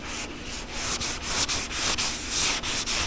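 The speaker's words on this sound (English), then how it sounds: "So we're trying to sand those down until we get a nice, smooth, uniform finish there." Sanding paint on the body of a 1995 Ford F Superduty crew cab truck, a steady back-and-forth rasping scrub in even strokes, close and fairly loud with no voices.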